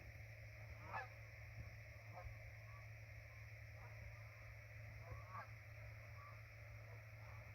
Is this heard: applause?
no